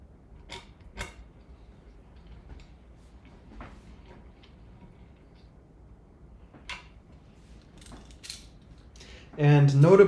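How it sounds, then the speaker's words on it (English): Nylock nuts are turned with Knipex wrench pliers while a Ratrig V-Minion 3D printer kit is assembled, giving sparse faint clicks and creaks with long quiet gaps, then a short loud burst of speech at the end. "we're just screwing in these nylock nuts. We got my handy dandy Knipex wrench pliers."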